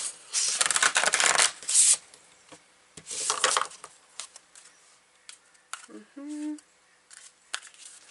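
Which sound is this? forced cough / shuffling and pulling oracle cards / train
shuffling and pulling oracle cards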